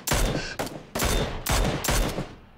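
Sniper rifle fire in PlayerUnknown's Battlegrounds: about five loud, sharp shots in an uneven rapid sequence, each cracking hard and trailing off into a short echo.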